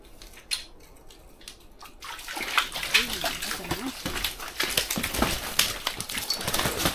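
A small hooked fish thrashing in a slushy ice fishing hole at Fenton Lake in New Mexico's Jemez Mountains, sharp wet splashes and slush spatters growing busier after a quiet start, with people talking nearby.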